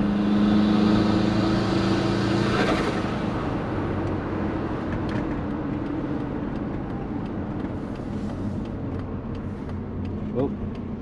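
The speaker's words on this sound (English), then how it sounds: "Making more boost now." A built, turbocharged Subaru Forester engine drones steadily while building boost, heard from inside the car with voices talking over it.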